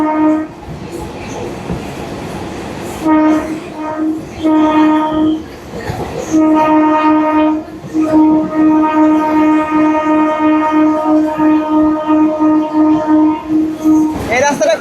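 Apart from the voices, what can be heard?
train running on curving track, passenger seat behind engine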